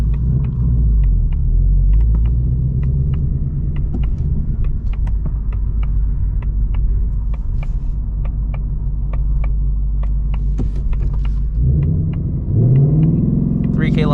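A 2024 Ford Mustang GT with naturally aspirated V8 at a quarter-mile drag strip: heavy, steady engine rumble close up inside the car, with a shift in tone near the end as it pulls away.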